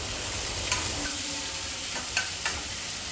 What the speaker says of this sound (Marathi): कांदा देखील मी छान आता इथे परतून घेते आहे